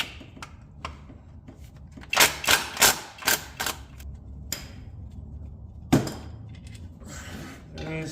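Five 10mm bolts being loosened and removed from the transfer case housing of a 1998 Jeep XJ, heard as close metallic ratchet clicks and clinks in short bursts, with a louder clack near the end.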